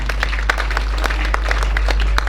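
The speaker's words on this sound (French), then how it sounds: "Vos applaudissements." An audience applauds at a school prize-giving ceremony in the commune of Goudomp. The scattered, uneven claps sound over a steady electrical hum from the sound system.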